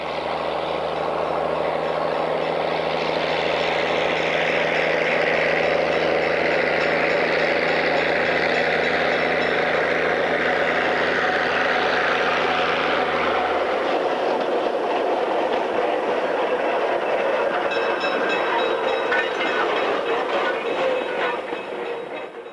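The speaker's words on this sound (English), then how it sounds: "Also operating is Lincoln Sand and Gravel number 44, a small switch engine built by Davenport in 1940." A 1940 Davenport small switch engine belonging to Lincoln Sand and Gravel runs with steam locomotives at a railway museum; a loud, steady train rumble with a low engine drone fades after about 14 seconds into lighter rolling rail noise.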